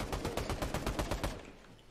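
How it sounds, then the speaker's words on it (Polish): Rapid automatic gunfire in the video game Fortnite rattles off in a quick, even burst of about a dozen shots, then cuts off and leaves a short fading tail. "O, strzela ktoś tu!"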